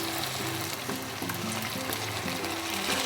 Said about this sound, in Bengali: আমি এই কটা দিয়ে এবার ভেজে নেব।